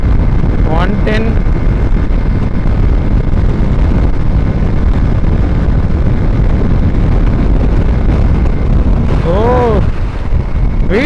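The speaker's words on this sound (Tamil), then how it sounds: "எனக்கு நல்லா காற்று பயங்கரமாக அடிக்குது" Strong, roaring wind buffets the microphone while a Hero Xpulse 200 4V motorcycle is ridden at speed over 100 km/h, a loud continuous rush that covers the engine, with brief tonal whines rising and falling near the start and end.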